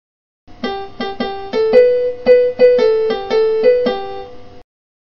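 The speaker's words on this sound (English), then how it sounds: "The piano makes this sound." Piano notes played one after another in a steady melody, clear and close with no voices.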